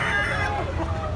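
A rooster from South Cebu calls in a short, loud, harmonic burst against a busy background.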